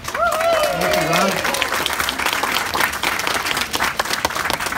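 Audience at a groundbreaking ceremony for an aquatic therapy pool breaks into dense, sustained applause and scattered cheers. Voices rise briefly at the start, and the clapping continues steadily close by.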